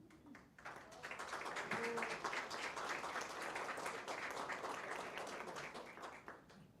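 Audience applause welcoming a band at a local energy development conference in Osorno, a dense steady burst of clapping that starts abruptly, holds for several seconds and tapers off at the end.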